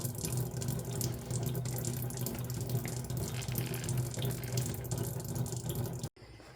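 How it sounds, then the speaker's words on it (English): Radiator fluid from a 2016 Kia Sorento SX pours in a steady, continuous stream into a drain pan, splashing evenly at close range, then cutting off abruptly near the end. "I'm going to leave the radiator cap closed up here and just let it drain"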